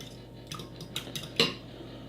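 Milk is stirred into corn muffin batter in a bowl, giving a few quiet clinks and taps of a utensil against the dish, with one sharper knock near the end.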